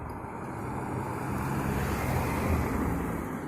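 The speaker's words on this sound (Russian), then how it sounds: "как едут машины" Cars pass on a wet road in the rain, a steady broadband hiss of tyres on water swelling gently with a low rumble, with no voices.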